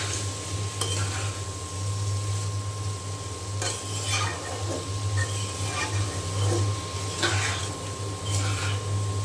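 Radish and Malabar spinach fruit being fried with potato in a pan, a steady sizzle under a low hum, with occasional scrapes and clinks of a utensil stirring against the pan.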